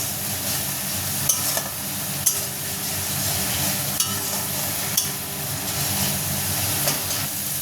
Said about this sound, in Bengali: দিয়ে এবার মশলাটাকে আমি সুন্দর করে কষে নেবো নেড়ে চেড়ে।